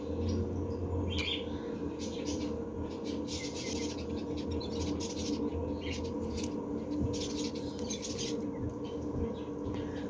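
A caged pet bird at a home in Taiwan chirps in short, scattered high tweets over a steady background hum, fairly close but not loud.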